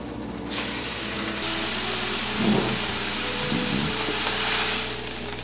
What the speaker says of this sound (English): want to quickly sear it on the fat side to get that flavor in this pan